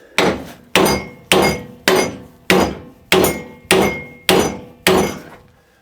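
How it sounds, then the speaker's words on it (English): A hammer strikes metal on an anvil during repair work on a bike footpeg and tractor track rod thread, delivering nine loud, evenly spaced ringing blows at close range, each with a short metallic decay. "A bit more whack on the anvil, I think."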